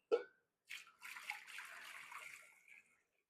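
Bone broth is poured into a soup pot for a rotisserie-chicken vegetable soup, a steady splashing stream lasting about two seconds after a brief knock, close and alone.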